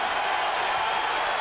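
A basketball crowd at Marquette versus Cincinnati roars in a dense, steady wash of cheering that fills the whole short stretch, loud and unbroken.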